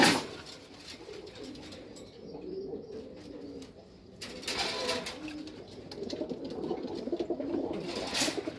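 Pigeons cooing at night in a loft of Ghazar pigeons kept for sale, soft repeated low coos close by with some chirps and brief rustling, with no talk.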